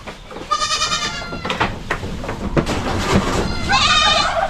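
Goats in a farm pen bleat repeatedly, with a long wavering call near the start and another at the end over rustling and movement noise.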